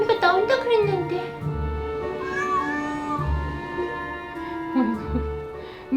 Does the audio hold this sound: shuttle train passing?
no